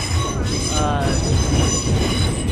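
A train rumbles past close by, with heavy low-pitched wheel noise and metallic squealing tones over the steady roar.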